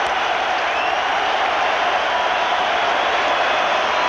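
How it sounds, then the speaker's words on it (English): Dense, continuous roar of a stadium crowd cheering at a 1999 Michigan vs. Syracuse college football game, a loud, steady wall of noise near the end zone with no pause. "Crowd now on their feet again. It gets loud on that end zone."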